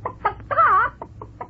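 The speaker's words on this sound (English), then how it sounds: "What's that chicken doing here?" On a 1959 television quiz show, a chicken gives a quick series of short clucks and one longer, rising squawk in the middle, all loud and close.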